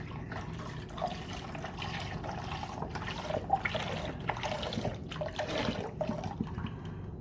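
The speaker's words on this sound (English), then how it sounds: "so I'll be adding some water" Water is poured into a pot for tortilla soup, a continuous close splashing and trickling fill with faint kitchen noise around it.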